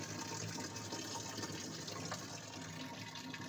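A stream of water pours steadily from a spring at a Shiva temple, a continuous broadband gushing and splashing heard close and alone.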